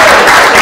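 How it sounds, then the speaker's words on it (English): Academic audience at a science education research presentation applauding postdocs, dense steady clapping filling the room at close range with no pauses. "And another round of applause for the postdocs."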